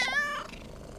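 A cat in a dinosaur video game gives a single short, tonal meow-like purr that fades quickly into quiet background.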